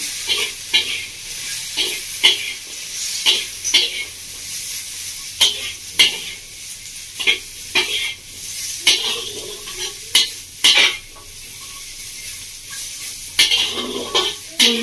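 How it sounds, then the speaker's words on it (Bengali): Drumsticks sautéed with Kashmiri chilli powder in a pan give a steady sizzle broken by repeated close scrapes and clinks of a spoon against the metal. "লঙ্কাটাকে হাতের সাথে খুব ভালো করে কষিয়ে নেব।"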